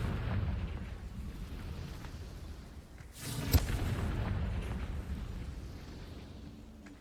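A Confringo blasting spell explodes in the Hogwarts Legacy video game, a muffled boom with a sharp burst at its peak over a continuous low rumbling battle ambience, with no speech.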